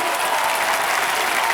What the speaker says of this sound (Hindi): आज यहाँ तालियों की बौछार जो हमने देखी है और जो गूंज सुनी है